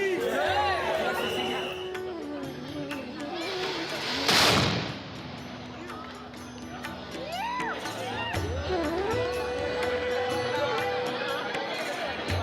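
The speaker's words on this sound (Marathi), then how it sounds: "तिथे तोफेची सलामी दिली जाते" A ceremonial cannon salute at the Ambabai temple in Kolhapur fires one loud, sharp boom midway through, set within the chatter and voices of a gathered crowd.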